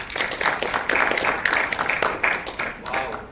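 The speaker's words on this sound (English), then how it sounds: "now clap your hands if you ever thought about starting up" A room full of audience members claps their hands together, a dense, sustained patter of many hands at moderate loudness with faint voices mixed in.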